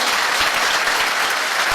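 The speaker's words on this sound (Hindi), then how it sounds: "ताली जोरदार वाली बजाइए" Dense, steady applause from an audience at an RCM gathering, a continuous wash of clapping hands filling the whole moment.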